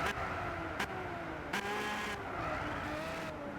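Several racing cars in the video game Gran Turismo 6 roar with steady engine tones around the listener, sharp shifts and brief tire skids breaking in over the continuous drone, with no talking.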